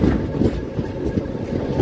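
A Delhi to Pune Special Express train rolls on rails while entering Kalyan, giving a loud, steady low rumble with faint rhythmic clatter throughout and no voices.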